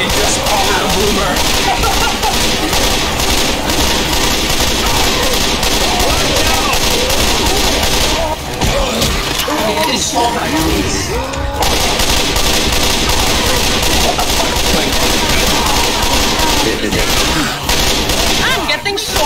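Dense, continuous gunfire from a zombie video game, a loud unbroken barrage of rapid shots lasting throughout with only a short lull midway, with voices talking over it.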